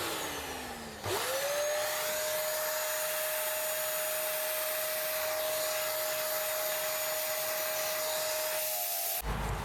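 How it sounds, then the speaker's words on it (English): A vacuum cleaner whines steadily up close while clearing out the cartridge slots of an SNK Neo Geo MV4 four-slot arcade board, starting up with a rising tone and running for several seconds before cutting off. "I'm just going to vacuum them out as well"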